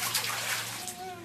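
Water splashing in a pool, a brief close wash of sloshing spray with a voice over it.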